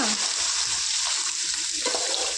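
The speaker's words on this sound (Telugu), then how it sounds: "దీన్ని లైట్ గోల్డెన్ బ్రౌన్ కలర్ వచ్చేదాకా ఫ్రై చేసుకుందాం" Mutton frying in about 250 grams of hot oil, a continuous dense sizzle with light stirring, close and steady and without talk.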